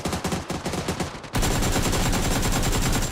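Loud, sustained gunfire in the battle-royale game PUBG: a first burst of rapid shots is followed by a denser, louder continuous volley that runs to the end, with no talk over it.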